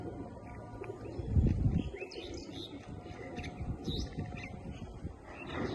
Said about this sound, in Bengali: এই হচ্ছে নর কবুতরটা মাদি কবুতরটা দেখাচ্ছি